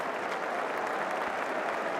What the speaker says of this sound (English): that's what that applause is for.